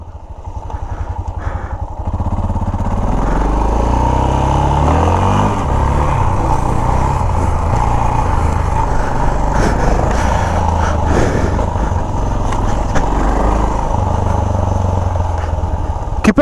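Motorcycles rev hard at night as riders pull wheelies, loud and close, engines climbing and falling in long repeated throttle bursts over a constant roar, with faint crowd noise behind.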